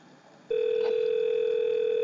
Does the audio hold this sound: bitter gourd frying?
no